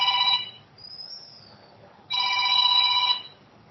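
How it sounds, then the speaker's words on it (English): An incoming phone call rings as a loud electronic tone that repeats in long bursts, with a short quieter tone in the gap between them and no talking. "I am getting a phone call"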